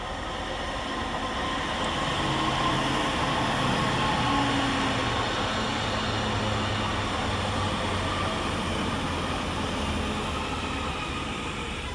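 A Northern class 331 electric train arriving at Newton-le-Willows station, a steady rumbling roll with faint hums and squeals, heard from the platform at moderate level.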